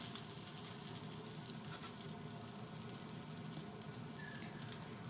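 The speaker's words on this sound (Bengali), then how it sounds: "সবজিগুলো একটু ভেজে নিলাম" Vegetables frying in a pan for a pumpkin-greens dish give a steady, faint broadband sizzle throughout, with no talk.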